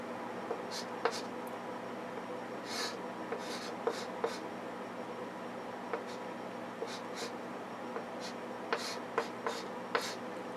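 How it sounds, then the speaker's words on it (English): Math being written out by hand: steady faint scratching strokes with small taps and pauses, continuing quietly under a low room hum. "I guess I'd better write it out"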